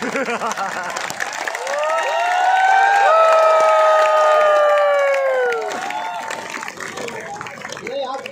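A crowd of protesting government ministerial employees at a rally in Jaipur cheers and shouts loudly together, with voices swelling into a sustained chant over scattered clapping before settling back.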